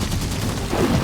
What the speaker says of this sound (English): I'm just dying in an explosion